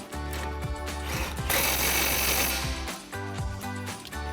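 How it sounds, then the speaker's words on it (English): Impact wrench with a 21mm socket tightening a shock mount nut during a suspension lift install on a RAM 1500, a loud rapid hammering burst lasting about a second amid a steady mechanical hum, with no talking. "Grab our impact 21mm socket and 21mm wrench and tighten that down"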